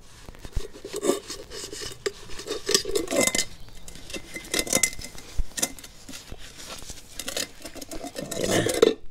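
Someone scrubs the inside of a pot or pan in irregular scraping strokes, with metallic rubs and clatters rising and falling at close range, busiest near the start and the end.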